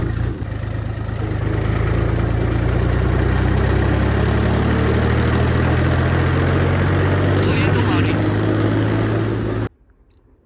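A tractor engine runs close by with a deep, steady chugging rumble for several seconds, then cuts off abruptly near the end.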